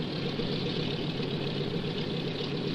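Engines run at full power in a steady, unbroken drone that fills the whole stretch at an even loudness, with a deep rumble beneath a brighter mechanical hiss.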